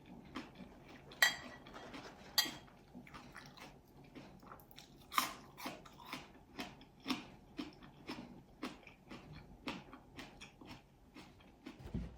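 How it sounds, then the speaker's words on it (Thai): Crunchy Swedish mushrooms in a spicy salad dressed with chili paste and lime juice, bitten and chewed close to the mic: sharp crisp bites followed by a steady run of softer crunching chews, no talking. "เห็ดคอนส่วนมีความกรุบๆค่ะ"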